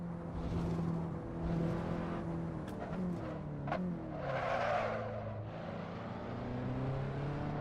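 Racing sim car in a video game braking hard, tires locking and skidding with a rising screech over steady engine drone, continuous across the stretch without talk.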